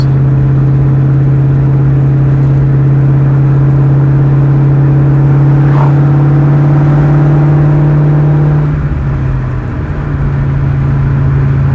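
Terminator Cobra car engine running loud and steady from inside the car, a constant droning hum with a drop in pitch near the end as it shifts gears.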